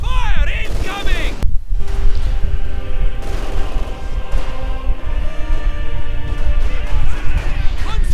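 Incoming artillery fire in Company of Heroes 2 during a 1v1 match, loud booming impacts and crashing explosions with layered battle clatter, a commentator's voice talking over the chaotic game sounds.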